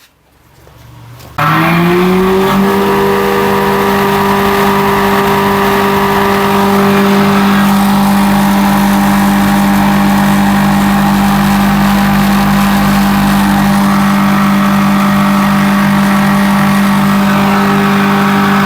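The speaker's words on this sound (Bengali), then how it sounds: "আমরা মেশিনটি দিয়ে এখনই চিটা অথবা যে পালিশ খাবার এগুলো মাড়াই করব" A 40-horsepower motor-driven threshing machine starts up, then settles into a loud, steady droning hum with a constant mechanical whine that runs unbroken to the end.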